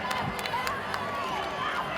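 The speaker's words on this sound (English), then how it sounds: "this crowd's getting loud" A gymnastics arena crowd at a Florida at Georgia meet swells during a balance beam routine, a steady dense roar of cheering and chatter with scattered sharp claps throughout.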